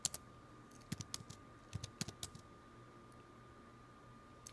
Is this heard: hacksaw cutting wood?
no